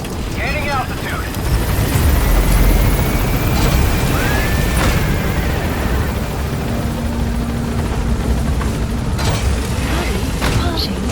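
A helicopter flies in the Metal Gear Solid V video game, its steady loud rotor thrum and engine whine continuing throughout as it gains altitude, with a voice speaking briefly and short electronic game tones over it.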